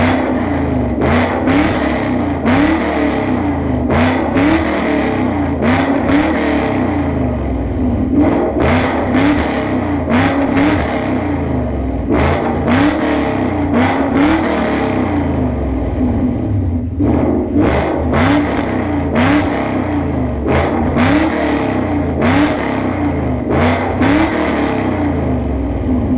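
Ford Mustang GT fitted with longtube catless headers, engine loud and close with steady rumbling idle punctuated by a series of short sharp revs across the whole stretch.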